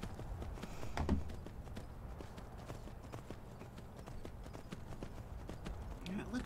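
Horse hooves clip-clopping at a run in the video game The Elder Scrolls V: Skyrim, a steady rhythmic patter of gallops beneath faint game ambience with a voice talking over it.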